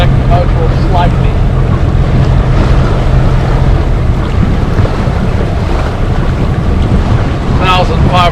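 A sailboat motoring under engine at about 5.3 knots, with steady wind rush and water noise across the whole stretch, a low motor drone beneath, and faint voices near the end.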